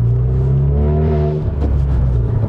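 A 2022 Honda Civic Type R FK8 engine revs loud and close as the car accelerates, with a rising droning tone from inside the cabin, a brief dip in the middle and a steady pull after, and no talking.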